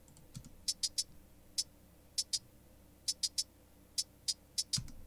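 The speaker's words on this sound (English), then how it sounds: "change the pitch of some of these closed hats to create a little bit more variation" Sparse, crisp closed hi-hat ticks in an uneven rhythm, slightly different in pitch from hit to hit, with a soft low thump near the start and end.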